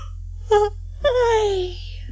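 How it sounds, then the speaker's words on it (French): A drawn-out vocal yawn from an animated character in a French-language cartoon set before a king, rising then sliding down in pitch after a short preceding breathy note, close and clear. "Bâiller devant le roi est tout à fait contraire à l'étiquette."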